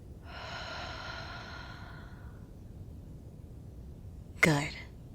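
A woman's slow, soft exhale drifts through for a couple of seconds, then after a quiet pause a short sharp intake of breath follows, intimate and close over a low background hiss.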